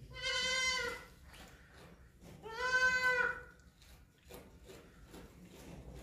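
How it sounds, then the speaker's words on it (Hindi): A tall male goat of a good breed with long ears, giving two loud, drawn-out bleats close by, separated by a short pause, with quiet background noise. "बकरा है ये, बकरा अच्छी नस्ल का, इसका कद बहुत लंबा है बकरे का।"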